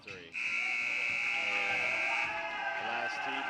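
A long, loud electronic buzzer blares for about three seconds to end the first half of a high school basketball game, Calvary against Augusta, over crowd noise and an announcer's voice.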